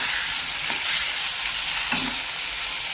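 Hilsa fish pieces, including the tail, frying in oil in a pan, a steady loud broadband sizzle with two brief bursts as pieces go in, no talk.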